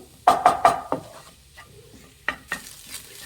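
Egg stir-fried in a hot pan for egg biryani: three quick, loud scraping spatula strokes, then scattered slower scrapes over a faint sizzle.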